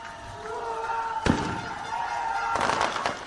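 Fireworks set off by celebrating protesters outside a police building where a political leader was jailed, with a sharp loud bang followed later by a burst of crackling, over steady crowd and street noise.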